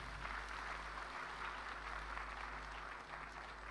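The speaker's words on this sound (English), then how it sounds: "Round of applause one more time." Audience applause after a song at the SSVM Transforming India Conclave, a faint, distant, steady patter of many hands clapping over a low hum.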